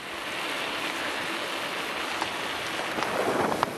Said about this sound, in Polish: a ja tutaj widzę mega ulewę przede mną.